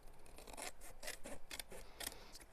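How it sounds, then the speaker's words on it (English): Scissors snip repeatedly through paper, trimming the overhang from a card mount in a craft session, with close, crisp, rasping cuts in an irregular rhythm and no voice. "I'm just going to take my scissors and just trim away the overhang so it's hidden"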